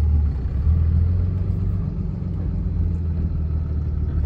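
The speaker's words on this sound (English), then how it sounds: "When you're kind of lugging forward like this, you can hear it sort of have a little bit of rollover noise." Truck with a Valair HD organic single-disc G56 clutch lugging forward at idle in second gear, a steady low engine rumble with faint clutch rollover noise, constant and moderately quiet.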